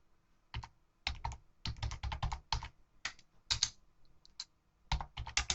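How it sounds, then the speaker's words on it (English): Computer keyboard keys tapped in quick bursts of several strokes with short pauses between, close and fairly quiet, with no voices. "I just went to my terminal and I typed in search exploit."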